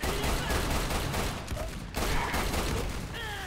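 Video game gunfire in Lost Planet 2, a continuous rattle of rapid automatic shots with dense, noisy bursts. The firing runs the whole time with a brief dip midway, and a faint voice sits underneath.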